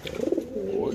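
Grizzle racer pigeons at a pigeon farm give a brief, close, throaty coo, a low rolling murmur lasting about a second.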